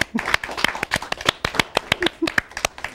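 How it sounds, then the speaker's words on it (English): A studio audience on an Indian talk show gives a round of applause: loud, close, individually distinct claps in a quick uneven rhythm, with faint voices underneath. "Big round of applause."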